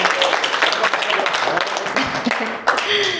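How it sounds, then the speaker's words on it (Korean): An audience claps in a steady, dense patter that fills the room at a business pitch presentation, with a voice speaking over the applause. "큰 박수로 맞이해주시기 바랍니다"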